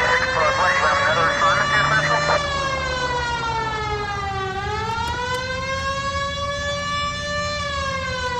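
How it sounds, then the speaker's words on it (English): A loud police car siren in a video game wails in long rising and falling sweeps, with an engine and brief radio-like chatter underneath at the start. "Hit the siren."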